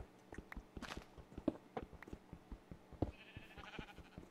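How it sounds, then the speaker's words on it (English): Sheep bleating in the Minecraft video game, several short blocky game bleats scattered across the stretch alongside footstep-like taps, fairly quiet and heard alone without talk. "Get away, you sheep!"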